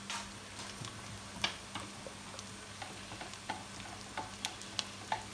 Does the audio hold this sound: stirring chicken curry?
yes